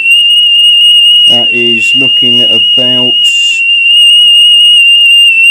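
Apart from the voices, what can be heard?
3 kHz test tone played on Panasonic SG-J555 boombox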